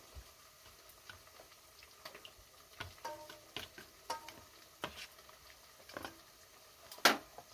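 A Telangana-style fish curry is mixed by hand or spoon, producing soft, irregular scraping and clicking taps with one sharper knock near the end, all fairly faint and without talking.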